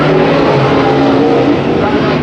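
A-Mod race cars in a heat race at Antioch Speedway roar past in a loud, continuous engine drone with revving, while an announcer talks over the racing.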